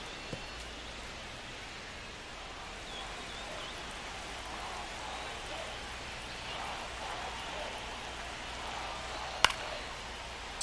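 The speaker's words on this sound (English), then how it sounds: "the field's not going to be able to hold up if the rain gets any worse than this" Rain falling on a baseball field in the video game MLB 25, a steady soft hiss of rainfall that stays even throughout, with one brief faint click near the end.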